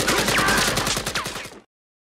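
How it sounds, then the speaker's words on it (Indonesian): Gunfire in an action film scene with guards scattering, rapid repeated bursts of shots over a chaotic mix with a voice, loud and close, cutting off abruptly into silence. "tembakan terdengar di mana-mana"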